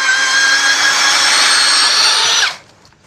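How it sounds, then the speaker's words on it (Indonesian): A power drill with a 16 mm bit bores into hard wood, a loud, steady, high-pitched whine close by that holds for about two and a half seconds and then cuts off. "mata bor yang udah sering banget saya ajar ke kayu-kayu keras gitu ya"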